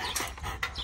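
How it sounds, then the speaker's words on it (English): A couple of puppies at a countryside home outside central Tunis give short yelps or barks, two brief bursts close by over steady low background noise. "He's got a couple puppies."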